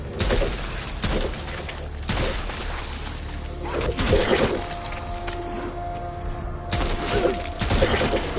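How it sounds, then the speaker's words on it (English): Frag grenade blasts and gunfire in a video game: repeated sharp cracks and booming bursts over steady game noise, with a sustained tone running through the middle, and no talk. "Frag thrown!"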